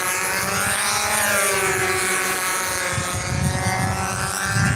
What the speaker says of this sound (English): It was a pretty good engine.